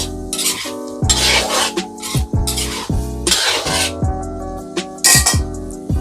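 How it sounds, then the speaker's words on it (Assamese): Spices being stirred into a magur fish curry in a pan on a zero-oil recipe: loud, close scraping and rasping strokes of a spoon against the pan, with occasional metallic clinks in an uneven rhythm. "লৰাই দিছোঁ"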